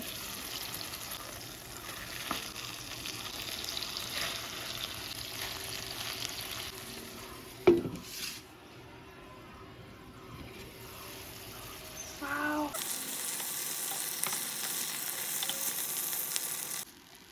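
Rohu fish wrapped in bottle gourd leaves cooking in a pan over gentle steam, giving a steady soft sizzle with faint stirring and a brief clatter partway through, continuing alone without talk.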